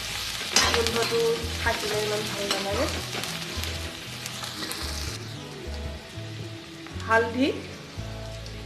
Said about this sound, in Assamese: আদা, নহৰু গোন্ধ যোৱালৈকে মই অলপ সময় ভাজি লৈছো